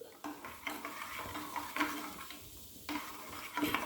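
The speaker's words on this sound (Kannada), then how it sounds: "ಕೈ ಬಿಡದೆ ತಿರ್ಸ್ತಾ ಇರಬೇಕು" Soft scraping and stirring of boiling, thickening milk in a pot with faint bubbling and occasional light clinks of a utensil, close by and steady.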